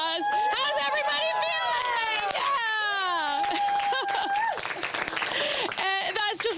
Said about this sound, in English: that's just one of several applauses we've had since this rocket went up